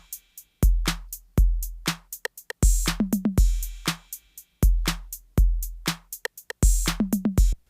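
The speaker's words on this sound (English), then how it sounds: "just a standard 808 core kit in Ableton sounds like this" Standard 808 core drum kit in Ableton with no effects: a dry, sparse beat of deep booming kicks and crisp snare and hat hits, repeating in a steady loop, clean and close.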